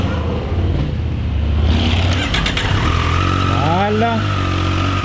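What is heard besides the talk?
small street motorcycle engine starting and revving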